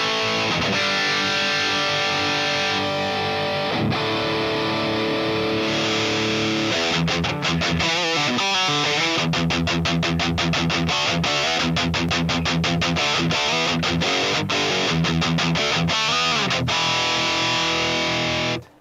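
Heavily distorted electric guitar through a Fractal Axe-Fx III running a cabinet in its loop: sustained chords ring out, then turn into fast, tightly palm-muted chugging riffs, loud and close with no talking.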